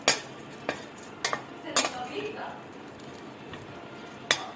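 Raisins and chironji roast in ghee in a kadhai, with a faint sizzle under repeated clinks and scrapes of a spoon stirring against the metal pan.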